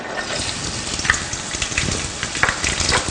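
Half a chopped onion sizzling in hot oil in a medium-sized pan, a steady dense crackle and hiss with scattered sharper pops throughout, close and continuous with no talking.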